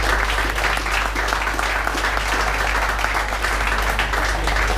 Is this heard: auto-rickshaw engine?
no